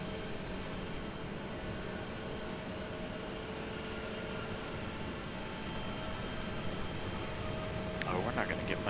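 A Southwest Boeing 737 arriving at Raleigh-Durham airport makes a steady jet roar with faint high whining tones, fairly loud and unbroken, a brief clatter near the end, no voices.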